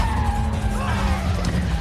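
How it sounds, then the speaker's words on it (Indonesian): A car skids during a street race and crashes into a roadside barrier and a pole, heard as a continuous loud roar of engine and screeching tires, with no clear separate impact. "Sean langsung menubruk pembatas jalan dan tiang di sana"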